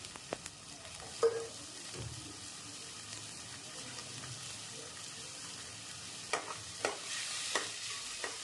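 Prawns marinated in turmeric and salt sautéing in a pan, a soft steady sizzle with occasional sharp scrapes and taps of a spoon, a few clustered toward the end, no voices.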